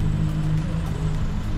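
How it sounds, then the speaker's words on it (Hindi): Cars sit idling and creeping in a heavy morning traffic jam, a constant low engine rumble that stays at an even level throughout. "टोटली खतरनाक ट्रैफिक जाम देखो पीछे से"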